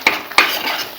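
A spoon scrapes and clinks twice against a pot while coconut milk corn flour pudding is stirred, the two sharp metallic strokes close and clear.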